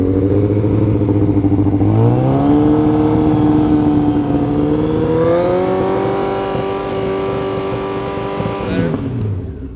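A 2000 Yamaha R1 sport bike engine runs loud and close, idling steadily before its revs climb to a higher held pitch, then dropping back near the end.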